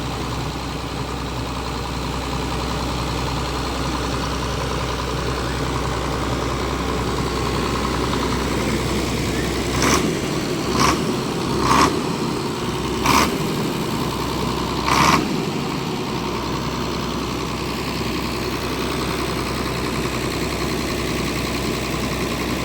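A six-cylinder 86 kVA diesel generator runs at a festival ground for a Manasa puja, a steady, constant engine drone throughout, broken by a few sharp clicks or knocks midway.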